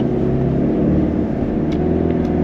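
Steady low engine hum and road rumble from inside a car cruising slowly through the Waterset housing community, a continuous close drone with no talking.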